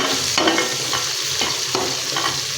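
Onion and garlic sizzle loudly in a pan as they fry, with several sharp scraping stir strokes spaced through the steady crackle, close up and without speech.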